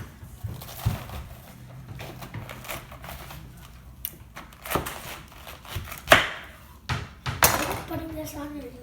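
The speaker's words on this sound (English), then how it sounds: "I start chopping my cabbage and putting it in a bowl" Sharp knife strikes chop through cabbage for homemade sauerkraut in irregular bursts, some hits louder and closer than others, with quiet background noise between them.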